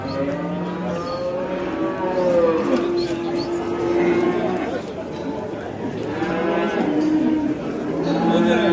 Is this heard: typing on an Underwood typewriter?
no